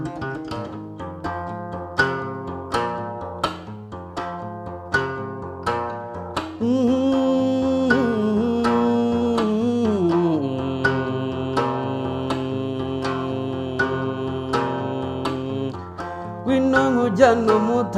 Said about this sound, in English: that's how I started my journey of playing the Inanga.